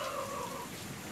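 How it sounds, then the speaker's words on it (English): Heavy rain falls during a big storm, a dense, even hiss that stays steady for the whole moment at moderate loudness, with no voices. "I'm just thankful to God that we have rain because we have not gotten a storm like this"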